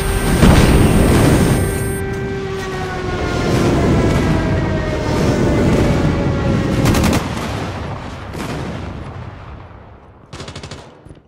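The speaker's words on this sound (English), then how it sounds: "Enemy airstrike incoming." Enemy airstrike in the Call of Duty Mobile game: a dense barrage of gunfire and heavy booms, loud and close, rumbling on for several seconds, then a brief rapid burst near the end.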